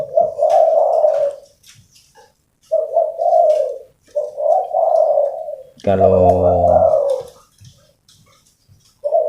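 Spotted dove, a fighting-trained tekukur, cooing in several separate low phrases, fairly close, with someone talking between and over the calls.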